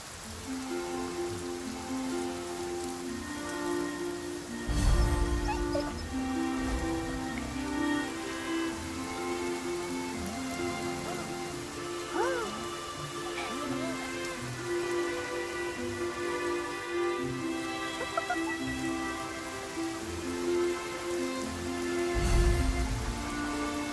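Rain falls steadily in a video game, a constant close patter of drops on surfaces under a sustained tonal music bed with occasional soft chimes.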